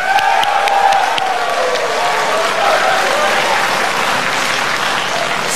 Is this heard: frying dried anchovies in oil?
no